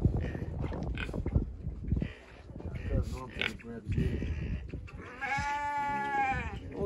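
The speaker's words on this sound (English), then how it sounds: "The sheep? They've been talking to me all day." Voices chatter in the first half, then a wavering sheep bleat rings out clearly near the end, in Mexico.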